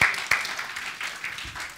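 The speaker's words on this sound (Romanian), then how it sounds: "Let's give them a hand." Brief, faint clapping from a small audience at a church conference session, a soft patter with a couple of sharper claps and no talk over it.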